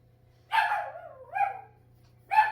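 A small dog barks indoors in a home kitchen, a few sharp, close barks separated by pauses, with no talking over them.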